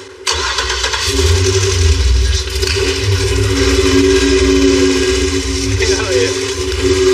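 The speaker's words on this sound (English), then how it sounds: "That engine sounds so bad" A custom-built Cadillac's engine cranks and catches almost at once, then settles into a loud, steady running rumble with a strong low drone and faint fluctuations, close by and continuous to the end.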